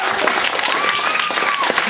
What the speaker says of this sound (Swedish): En stor applåd till dem.